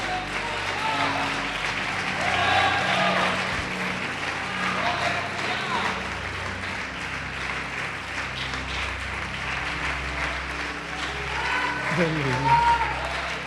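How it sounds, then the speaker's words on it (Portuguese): Churchgoers at a Portuguese-language worship service applaud continuously in a dense, sustained wash of clapping, mixed with voices and background music. "Quem crê pode aplaudir o Senhor Jesus e glorificar."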